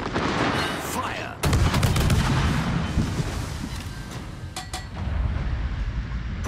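Gunfire in a military video game, a dense volley of booming shots and rattling bursts after a brief lull, continuing with scattered loud reports amid rumbling background noise.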